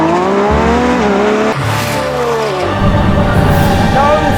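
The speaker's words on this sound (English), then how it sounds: "The Lamborghini Revuelto is the pinnacle of a supercar in 2024. It has it all, looks, sound and performance." A 2024 Lamborghini Revuelto supercar engine revs up and down in loud, close sweeps of rising and falling pitch, ending in a rougher, broader roar.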